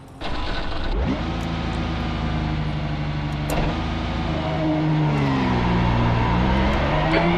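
Race car engine in the iRacing sim, droning steadily and loud throughout, with rising and falling pitch as the car accelerates and shifts, heard alone without talk.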